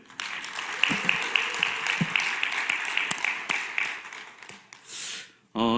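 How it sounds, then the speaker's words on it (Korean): Applause from a congregation in a church Bible study class, a brisk crowd of clapping hands that fades out near the end, followed by a short noise burst and then a voice. "다시 한번 박수 한번 주십시오"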